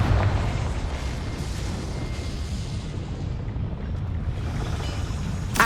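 The Confringo blasting curse in Hogwarts Legacy erupts as a sustained roaring explosion, loud and rumbling throughout, with a sharp pop at the end and no speech.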